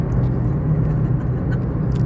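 Road traffic in Saudi Arabia: a steady, continuous low rumble and whir of passing cars and engines, even and unbroken throughout, with no voices.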